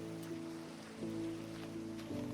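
Steady, quiet rain hisses in the video game Minecraft, under soft tonal game music with no talk.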